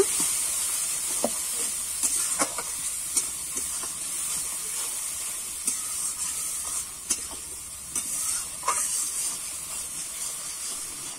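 A steady close hiss of spices sizzling in oil with turmeric, poppy seed and green chili paste, broken by occasional stirring scrapes and taps of a spoon against the pan, with no voices.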